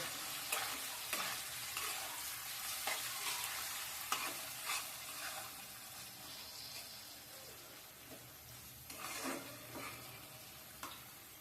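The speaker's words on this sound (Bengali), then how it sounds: "এ পর্যায়ে আমি দিয়ে দিব রসুন যেটাকে আমি থেতো করে রেখেছি আর টমেটো কুচি এগুলোকেও ভালোভাবে ভেজে দিব" Crushed garlic and chopped tomato fry in a pan for a chickpea curry, giving a soft, steady sizzle with occasional stirring scrapes and clinks, fairly quiet and close, with no talking.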